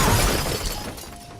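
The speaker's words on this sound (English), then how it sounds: "Peter accidentally smashed his car into a tree to get rid of the evil" A cartoon car smashes into a tree with a loud, shattering crash, glass breaking and debris clattering, then fading.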